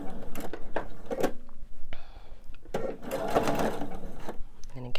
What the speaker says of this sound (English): I'm gonna get that last seam sewn